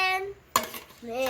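Pork liver pieces being mixed in a bowl, a short clinking scrape of utensil against the bowl between tonal background sounds.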